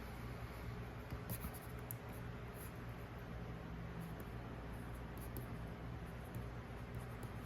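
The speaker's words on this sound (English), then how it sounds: "if I wanted to write a note, I could write a note just right here" A stylus scratches across the screen of a Kindle Scribe while a note is written, a faint, steady, soft scraping with small irregular strokes against a quiet hiss.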